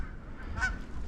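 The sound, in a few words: geese whiffling while descending to decoys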